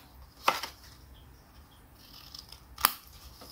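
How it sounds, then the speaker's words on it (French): Scissors make two crisp, separate snips as they trim the corners of a folded paper card pocket, close and clean against a quiet background. "Là, on coupe les angles."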